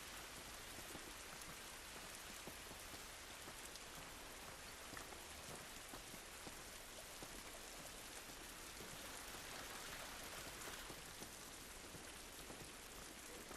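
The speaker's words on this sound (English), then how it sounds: "This rain ain't gonna do us any good." Steady rain pours down continuously in the video game The Last of Us, a dense hiss of drops with faint patter throughout and no voices.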